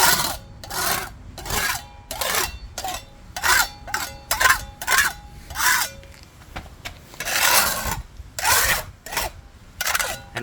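Asphalt crack filler being leveled with a hand tool on a driveway, heard as a series of repeated rough scraping strokes, close and fairly loud, with brief pauses between passes and no talk.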